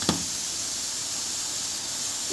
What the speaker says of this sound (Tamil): இப்போ இது கொஞ்சம் கொதிச்சு வரட்டும்